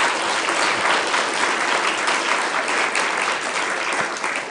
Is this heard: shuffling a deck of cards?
no